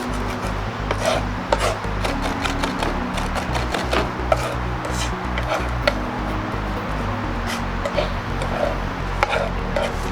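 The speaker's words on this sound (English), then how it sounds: "I'm going to smash, create a paste here with my knife" A knife repeatedly smashes and chops herbs and garlic into a paste on a cutting board, steady close rapping knocks in quick rhythm over a low hum.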